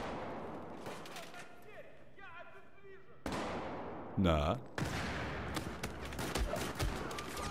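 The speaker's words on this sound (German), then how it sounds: "Oh, noch ein Schuss mehr." Gunfire in Battlefield 4 on PS4, on the Operation Locker map: repeated sharp shots and bursts at varying distances, with one loud close blast midway, while a player talks over the action.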